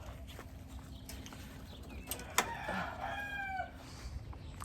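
A rooster crows once clearly with a rising, wavering call amid faint clucking chickens and light background clatter, at moderate distance in a quiet farmyard.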